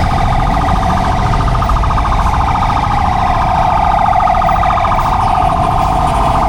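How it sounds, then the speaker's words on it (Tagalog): An ambulance siren stuck in heavy traffic in Cagayan de Oro wails steadily and loudly over constant traffic rumble, its rising and falling tone continuing throughout without pause. "hindi makadaan ang ambulansya"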